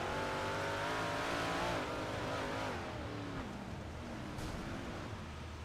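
An iRacing sim race car engine roars at high revs, dropping and climbing in pitch as it lifts and gets back on the throttle through corners, loud and continuous.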